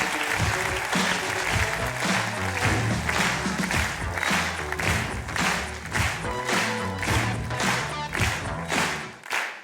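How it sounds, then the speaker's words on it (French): Audience applause greets a stand-up comedian at a comedy show, a dense steady roar of clapping with loud, rhythmic, thudding accents and a brief musical bed underneath, fading out at the end. "applaudissez-le très fort."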